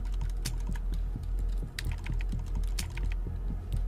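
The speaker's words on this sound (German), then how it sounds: "So, ein bisschen auf der Tastatur rumkaut und schon haben wir sofort." Quick, uneven clatter of fingers on a computer keyboard, close and clear, with keys striking in rapid bursts and brief pauses between them.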